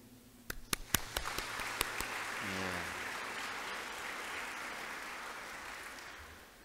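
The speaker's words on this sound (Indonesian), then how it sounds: "Marilah kita berikan aplaus yang meriah" Applause for new dentists at a graduation and oath ceremony at Hang Tuah University's dental faculty begins with a few scattered claps and swells into steady, sustained clapping from a large seated audience in a hall.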